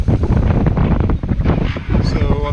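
Wind buffets loudly and unevenly across a microphone aboard a solo sailboat heading into a southeast breeze off Cape San Blas, Florida, a continuous gusty roar.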